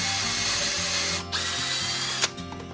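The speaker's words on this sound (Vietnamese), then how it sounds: "cái máy bự này nó chuyên khoan đó, thì để dành anh em khoan mồi, khoan một lỗ mồi ở đây" A DeWalt power drill bores a pilot hole with a steady, close whirring drone, briefly dipping twice as the bit slows and picks back up.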